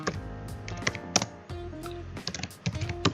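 Fast typing on a computer keyboard, a close run of sharp clicks and key taps in quick uneven bursts with brief pauses, no voice over it.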